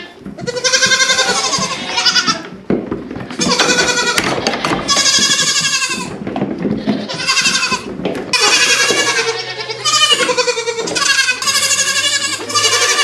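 Goats on a farm bleat loudly and close by, a near-continuous chorus of long wavering cries from several animals. Brief pauses break the calls, and a low hum runs beneath.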